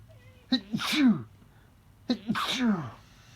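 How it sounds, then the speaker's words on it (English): Two sneezes, each a sharp intake followed by an explosive burst, spaced about a second and a half apart, close and loud. "I think I'm going to sneeze."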